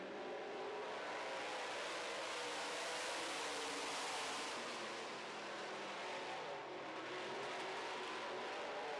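Late model race cars roar off at the green flag on an oval track, a continuous loud wash of engines at full throttle with no talk over it.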